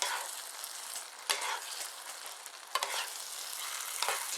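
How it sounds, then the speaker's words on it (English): A rice mixture for taco stuffed peppers sizzles in a pan while being stirred constantly, producing a continuous hiss with a few scraping strokes, fairly quiet and close with no voices. "you'll notice I'm constantly stirring"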